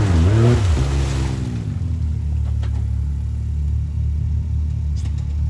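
A Can-Am X3 XRS 4x4 side-by-side engine revs hard while stuck in deep mud, a loud rising whine at first that settles into a steady heavy rumble.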